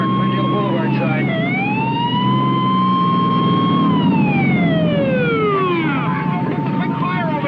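An emergency siren wails in long rising and falling sweeps, loud and sustained over a continuous rumble of traffic and crowd noise on Glendale Boulevard in Echo Park.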